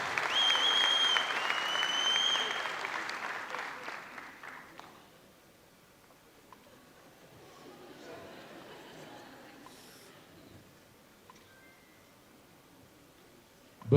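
Audience applause at an Ethiopian film premiere, loud and dense for about five seconds before fading into quieter murmuring, with a few scattered claps and voices continuing in the background.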